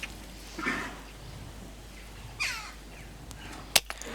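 Harsh, chattering calls of a magpie on a farmyard, two short distant bursts over a quiet outdoor background, followed near the end by a sharp sudden crack.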